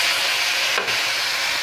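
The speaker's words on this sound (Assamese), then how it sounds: "আৰু এইখিনি ভালদৰে ভাজি ল'ম।" Spice paste with cumin and turmeric sizzles in hot oil in a pan for a katla fish curry, a steady close frying hiss with a brief stir partway through.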